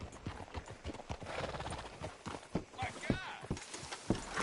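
Horse hooves clop at a walking pace in the Red Dead Redemption video game, a steady series of near hoofbeats running under a voice talking.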